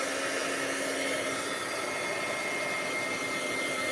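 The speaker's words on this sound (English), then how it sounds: "I'm going to heat this with my heat tool because we want to dry the ink first." A heat tool blows steadily to dry ink on a craft project, a loud, continuous whooshing roar held close to the microphone for the whole stretch with no voices.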